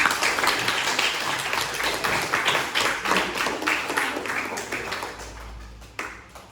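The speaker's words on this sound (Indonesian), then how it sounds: "Tepuk tangan seperti tadi." A class of seventh-grade students clap together in a classroom, a busy burst of hands that gradually thins and fades toward the end, with a sharp tap near the close.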